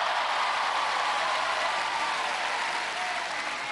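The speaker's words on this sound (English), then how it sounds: "let's hear it for Eddie McFarlane." Studio audience at the 1997 UK Gladiators television show applauds a contestant, a dense, steady wash of clapping that fills the whole stretch at full loudness and tapers slightly at the end.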